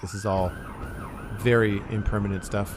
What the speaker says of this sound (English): Sorry about the siren going by.